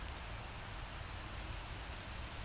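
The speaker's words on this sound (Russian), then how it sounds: "Вот такой мерзопакостный, такой мелкий дождик идет." Light drizzling rain falls steadily outdoors under an overcast sky, a dense, even hiss of fine drops with no distinct individual hits.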